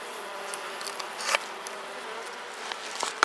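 Bees buzz close by around rose chafer beetles, a thin continuous drone with small flickers and soft ticks, and no voices.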